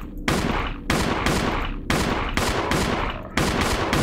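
Repeated loud gunshots in a fan-made Resident Evil video game, about seven sharp blasts in an uneven rhythm, each with a short decaying tail, close and dominant without talking.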